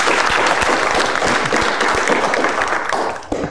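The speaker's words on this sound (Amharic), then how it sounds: "እስቲ አንዴ ሞቅ ባለ ጭብጨባ እንቀበላችሁ።" A studio audience applauds to welcome guests onto the stage of a televised Sunday comedy roast-battle show, a dense, steady wash of clapping that holds for several seconds before tapering off.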